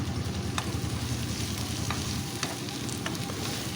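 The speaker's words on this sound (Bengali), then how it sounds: "সমস্ত মশলাটা বেশ ভালো করে একটু কষিয়ে নিচ্ছি" A paste of onion, ginger, garlic and chili fries as a masala for a fish curry, giving a dense, continuous close sizzle with the scrape of stirring, unbroken and without any talk.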